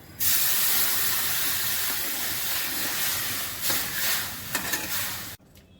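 Water poured into a pan of mung dal frying in mustard oil with chilies, bursting into a loud, sustained hissing sizzle that rumbles on for several seconds, then cuts off abruptly.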